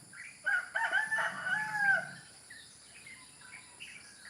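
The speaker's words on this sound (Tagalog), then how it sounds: "Naririnig mo ba yung mga ingay ng ibon?" A rooster crows loudly nearby, followed by fainter bird calls chirping in the background against a quiet setting.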